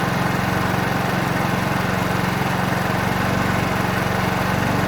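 A 50cc petrol scooter engine runs steadily at speed during carburetor tuning, a loud, continuous buzzing drone with no talk over it.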